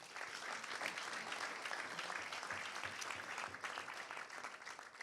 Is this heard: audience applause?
yes